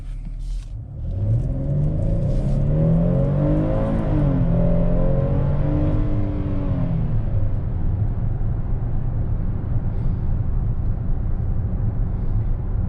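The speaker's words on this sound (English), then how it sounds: "And the acceleration is actually not too bad for a big 3-row SUV." A 2021 Hyundai Palisade Calligraphy three-row SUV accelerates, heard from inside. The engine note climbs in pitch, then settles into a steady, loud drone with road rumble.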